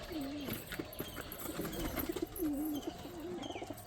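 Domestic pigeons coo repeatedly up close in a rhythmic, rolling series of low warbling calls, with soft background noise between the coos.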